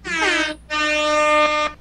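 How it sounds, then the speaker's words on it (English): A Jamaican air horn blares two loud, bright blasts at close range, a short one and then a longer sustained one. "He got his own Jamaican air horn."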